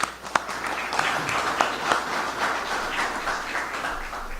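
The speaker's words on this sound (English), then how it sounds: "Give yourselves a round of applause on that." An audience at a Florida agriculture event in Dade City gives a round of applause, a dense, moderately loud spread of clapping with a few sharper claps early on, tapering slightly toward the end.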